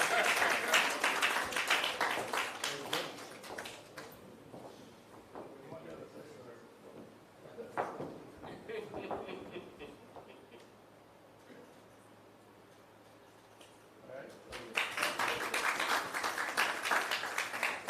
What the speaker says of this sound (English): That's a moment for you to clap.